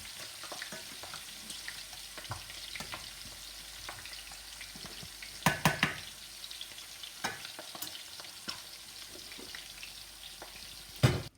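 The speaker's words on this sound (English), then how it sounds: "So I fried my gizzard here, and now I put it in the stew" Gizzard frying in a pan for a yam and gizzard stew: steady crackling sizzle throughout, with occasional sharper clinks and scrapes of a utensil stirring, close and moderately loud.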